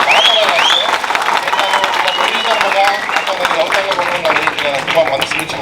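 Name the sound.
audience clapping loudly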